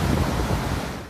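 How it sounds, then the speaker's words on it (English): Hurricane Irma's record-strength winds lash Puerto Rico, a loud, steady roar of rushing wind and storm noise buffeting the microphone with no pauses. "the strongest winds in a century lashed Puerto Rico"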